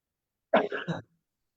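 A single short burst of coughing, three quick hacking pulses close to the microphone, then silence.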